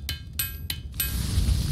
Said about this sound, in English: The final stage is to hammer out the shape of the head.